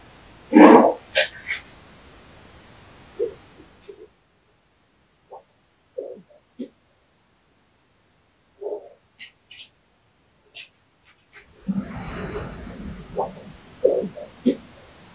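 A dog during a paranormal investigation lets out a loud bark, then a scattered series of soft whimpers and short whines across long quiet stretches, ending with a cluster of rustling and further yelps and whimpers.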